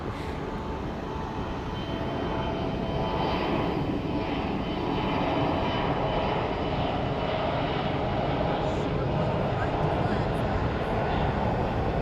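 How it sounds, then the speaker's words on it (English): A CRJ regional jet's engines at a busy airport produce a steady, distant roar and rumble that holds evenly throughout, with the broadband drone never letting up. "we have a little CRJ with a short flight to Flagstaff"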